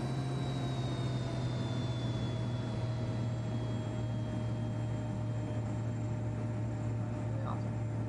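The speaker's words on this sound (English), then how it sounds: "let's start a taxi to runway 30" A steady airliner engine drone with a low rumble and a high whine as the plane taxis toward runway 30 in the GeoFS flight simulator, constant and unbroken for the whole stretch.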